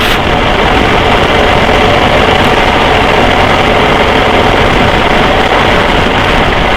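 Engine of a 2019 BMW R1250GS Adventure motorcycle with ShiftCam technology. A loud, constant low drone and rumble runs unbroken throughout, heard close and alone, with no speech.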